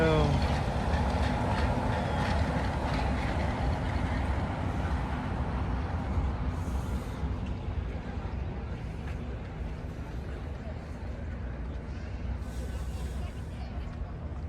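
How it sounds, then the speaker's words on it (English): A Magic Kingdom monorail rumbles past close by at Disney, a steady heavy rolling roar that slowly eases, with a voice talking over it. "Monorail."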